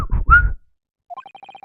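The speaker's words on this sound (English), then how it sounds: "I can hear a faint whistling sound." After a short spoken phrase and a pause, a faint high whistling tone emerges as a quick run of brief repeated notes, thin and close, continuing to the end.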